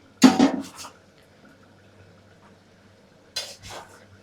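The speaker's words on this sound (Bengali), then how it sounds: "চিনিটা দিয়ে একটু নেড়ে নিই" Stirring sugar into chicken kosha in a pot: two short bursts of spoon scraping and clinking against the metal pot, one at the start and one near the end, with quiet between.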